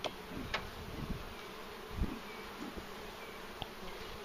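Honeybee swarm humming faintly and steadily through a hive transfer, a soft continuous drone with a few brief knocks and rustles of handling the hive.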